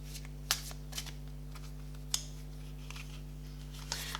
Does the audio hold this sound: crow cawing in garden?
no